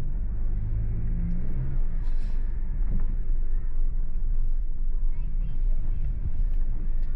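A Jetour T2 SUV in rock mode and first gear climbing uphill, heard from inside as a steady, loud low engine rumble that holds throughout, with people talking over it.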